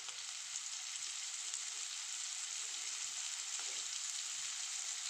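Sliced onions sauté in a pan for a potato masala filling, giving off a steady, even sizzle that runs without a break at low volume, with faint stirring underneath.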